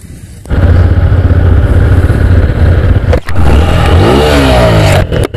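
A motorcycle engine revs hard at full power close by, a loud sustained roar that briefly drops and rises again, with pitch sweeping upward near the end; there is no speech over it.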